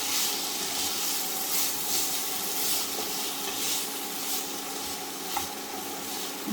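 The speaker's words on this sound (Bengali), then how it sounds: "ভালো করে কষিয়ে নেব।" Chicken pieces coated with turmeric and spices sauté in a pan, giving a steady, dense sizzle and hiss with slight surges as the mixture is stirred. No one speaks.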